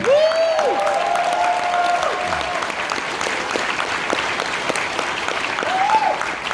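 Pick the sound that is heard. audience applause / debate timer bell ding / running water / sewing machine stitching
audience applause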